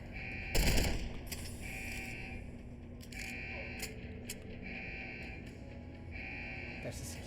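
A Deus Ex: Human Revolution security turret lets off one sharp, loud burst of fire, followed by a quieter pattern of repeating electronic beeps and faint ambience.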